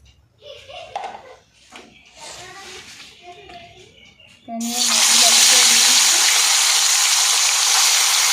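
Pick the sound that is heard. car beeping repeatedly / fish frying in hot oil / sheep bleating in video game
fish frying in hot oil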